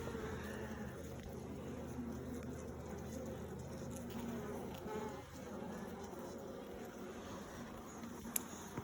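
Honey bees buzzing around an opened beehive during an inspection, a faint, steady swarm drone that fills the whole stretch, with a small click near the end.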